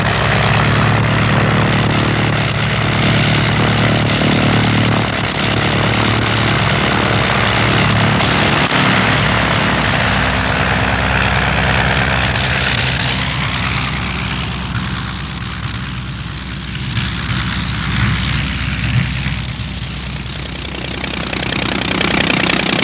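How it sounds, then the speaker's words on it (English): An original 1912 Blackburn monoplane with a 50-horsepower Gnome rotary engine flying at an airfield, a loud continuous droning propeller roar that swells and eases slightly as the aircraft passes. "This is not a replica, but a 1912 original, and is in fact the oldest British aeroplane still in flying condition."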